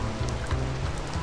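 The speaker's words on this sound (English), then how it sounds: "Oh, it's raining outside." Rain falls steadily in Minecraft, a soft continuous hiss with scattered patters throughout the brief moment.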